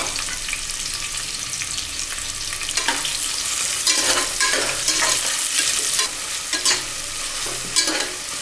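Long-cut large onions sauté for a vegetable biryani, giving a steady loud sizzle of frying with repeated scraping stirs of a spoon through the pan, no voices over it.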